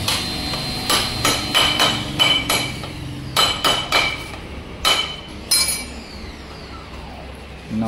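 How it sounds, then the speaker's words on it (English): Sharp metallic hammer strikes in irregular bursts, driving an oil seal into a 2019 Bajaj Dominar 400 motorcycle fork with the old seal in between, loud and close with ringing clinks between blows. "Hammer it with the old oil seal in between."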